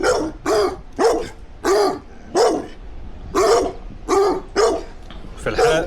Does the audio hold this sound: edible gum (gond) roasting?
no